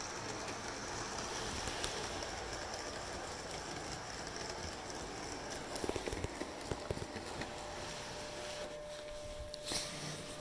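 HST model train running around a layout and pulling into a station platform, a steady rolling rumble with light clicking over rail joints and a thin whine near the end.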